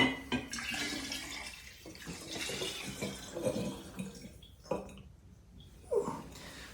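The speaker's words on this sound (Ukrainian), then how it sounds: "Готуємо спиртовий розчин, заливаємо спирту воду." Water poured into alcohol to make a spirit solution for a bison grass liqueur, an uneven splashing, gurgling pour heard close with short pauses and a few louder glugs.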